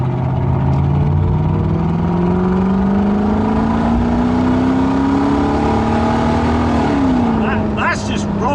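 A loud straight-piped supercharged V8 in a Mk2 Jaguar roars steadily, its pitch climbing slowly as it revs up and then easing back down, close and continuous.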